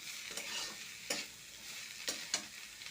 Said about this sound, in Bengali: সবগুলোকে একসাথে একটু ভেজে নেব।